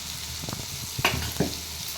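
Tomato, onion and chili powder sizzling and being stirred in a pan for a home-style dried anchovy thokku, a steady soft crackle with a couple of brief scraping stirs, fairly faint and heard alone.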